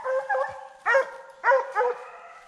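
Deer hunting hounds bay and bark during a deer dog drive, with about five loud, close, tonal yelps in an uneven rhythm.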